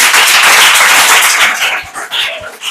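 A classroom of children claps loudly together for a classmate. The dense, rapid clapping fills the room and begins to thin out toward the end.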